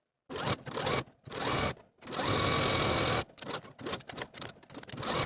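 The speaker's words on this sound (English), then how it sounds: "Then you're going to sew the front facing to the front piece as pinned from underarm seam all the way to underarm seam" Sewing machine stitching a blouse front facing to the front piece, running in steady bursts of varying length with short pauses between them, close and alone.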